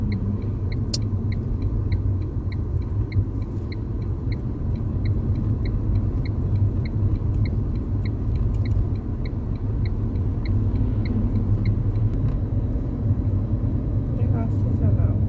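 Car driving slowly along a foggy highway, with a steady low road rumble and engine drone throughout and a regular soft ticking, like an indicator, over the top.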